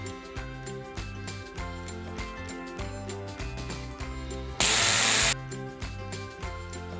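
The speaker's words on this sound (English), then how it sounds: "I press the food processor about 3 times or until it all minces together" A food processor gives one loud, whirring pulse of under a second as it minces fresh dill, mint, cilantro and parsley for falafel. Steady background music plays throughout.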